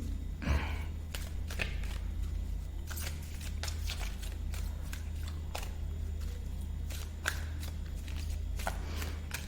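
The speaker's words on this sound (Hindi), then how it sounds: "मैं 3 कार्ड्स निकालूंगी और देखते हैं क्या आता है" Tarot cards are shuffled and drawn in a card reading, a run of crisp close flicks and riffles with an audible breath early on, over a low steady hum.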